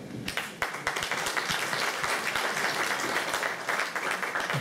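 Sustained audience applause after a modern dance performance by a girls' troupe at a local talent show, dense steady clapping filling the room with a few sharper claps standing out.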